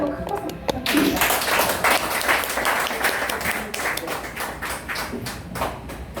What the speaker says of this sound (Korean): 회장님 박수 한번 큰 박수 부탁드립니다